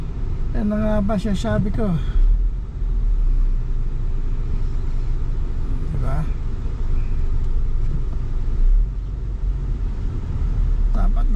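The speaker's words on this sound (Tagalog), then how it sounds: "Yan ang traffic." Road traffic heard from inside a vehicle, a steady low rumble of engines and road noise under close conversational speech, with a few passing swells.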